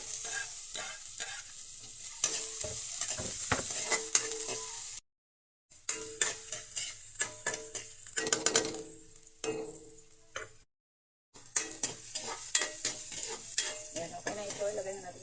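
Garlic and onions sauté in a hot pan for ginisang ampalaya, a bright steady sizzle broken by the scrape and clack of stirring, with two short silent gaps.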